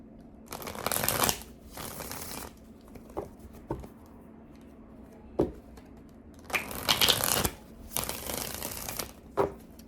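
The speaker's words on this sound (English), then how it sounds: "2 more shuffles." Tarot cards being shuffled in several separate bursts of riffling and papery patter, close and fairly quiet, with light taps between them.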